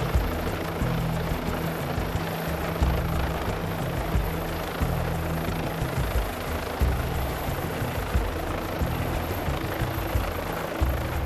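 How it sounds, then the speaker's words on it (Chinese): An air ambulance helicopter lifts off, its rotor and engine producing a loud, steady roar with a low, rapid thudding pulse throughout, close by and continuous with no voices. "在得到空中管制允许后，直升机马上起飞。"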